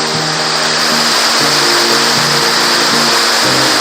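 Steady roar of Mag-Aso Falls in Kabankalan City, Negros Occidental, loud and close, a dense continuous rush of falling water with a low rumbling undertone throughout.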